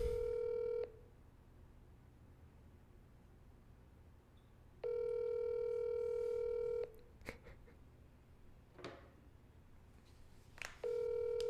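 Telephone ringing out while a call waits for an answer: two long repeated ring tones separated by a quiet gap, with a third ring beginning at the end, faint and steady over a low background, without talk.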